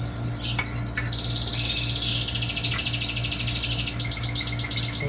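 Around twenty canary chicks chirp in a busy, continuous chorus of high peeps and tweets, close by and filling the whole stretch, with a steady low hum underneath.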